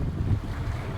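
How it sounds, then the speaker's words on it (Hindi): Strong cold wind buffets the open top deck of a cruise ship near the pool on the eleventh floor in the morning, a steady low rumbling roar with microphone gusts and faint sea wash, no voices. "और बहुत ज़्यादा ठंडी हवा चल रही है।"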